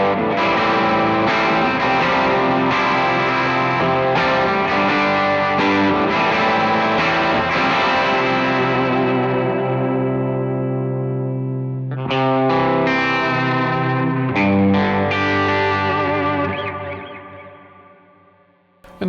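An electric guitar plays rhythm parts through an ACS1 amp simulator with drive, producing dense, continuous distorted chords. The playing pauses briefly partway through, resumes strongly and then rings out to a fade at the end.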